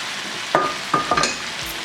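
Boiled vegetables get stirred into a pulpy tomato curry in a pan: a few distinct scraping and clattering spoon strokes over a low background sizzle.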